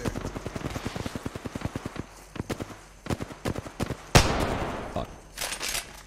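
Rapid run of gunshots in an Apex Legends match, a fast regular volley of sharp cracks followed by a few sparser shots and a louder blast, with players talking over the shooting.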